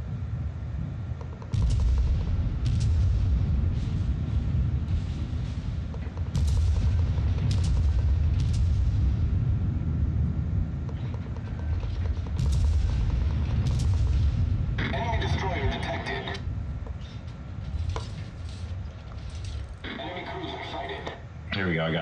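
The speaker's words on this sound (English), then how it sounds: "Concentrate fire on the enemy warship." Warship guns fire in the naval battle game World of Warships, a run of heavy booming salvos over a dense rumbling battle bed with radio-like chatter mixed in.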